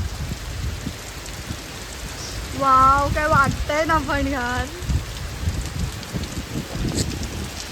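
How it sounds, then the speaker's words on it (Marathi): Steady rain patters and hisses throughout while a person briefly speaks excitedly over it partway through. "तिथला पाऊस दाखव."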